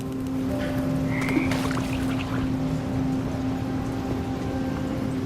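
Toads croak in a dark labyrinth scene in the video game What Remains of Edith Finch, low repeated croaks over a steady droning, watery ambience, with no one speaking.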